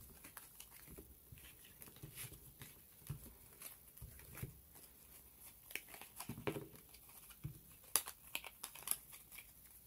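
Game cards are shuffled by hand in a quiet room, soft irregular papery riffles and taps, faint and close, with no talking.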